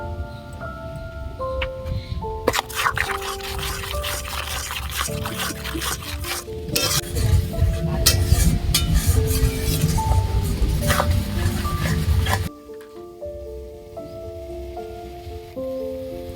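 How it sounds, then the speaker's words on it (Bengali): Spice masala of Kashmiri chili powder, salt and turmeric sizzling and being stirred in a pan for cabbage kofta curry, a steady crackling fry with scraping strokes, louder in the middle and dropping quieter near the end. "তো দেখো মশলাটা কষানো হয়ে গেছে"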